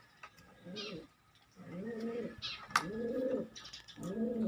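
Pigeons in a loft coo in repeated rounded phrases, several close calls with short pauses between them and a faint chirp here and there.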